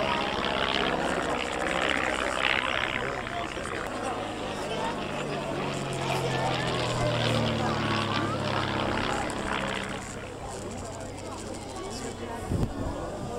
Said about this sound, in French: C'est plutôt un appareil qu'on classifierait d'avion de sport.